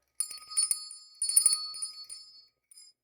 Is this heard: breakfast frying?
no